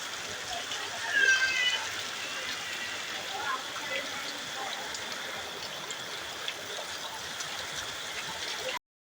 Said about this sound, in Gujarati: અને અહીંયા વરસાદ ચાલુ છે.